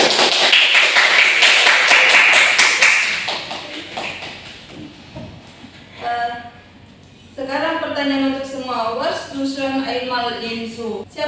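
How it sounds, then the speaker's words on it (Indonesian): Students in a German language class clap together in a loud, dense burst for a few seconds that fades away before a voice begins speaking. "Oke, tepuk tangan untuk kita"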